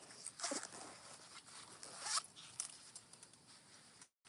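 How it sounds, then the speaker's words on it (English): A zipper being pulled closed on a fabric game-system wallet sleeve wrapped around a handheld console, with a few quick rasping zips up close and no talking. "I wrap it around my system, put it in there, and then I zip it closed"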